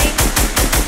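Rapid gunfire in a Fortnite solo match: a burst of about four loud, evenly spaced shots, close and sharp, with no talk over it.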